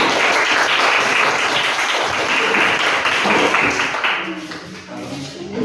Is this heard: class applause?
yes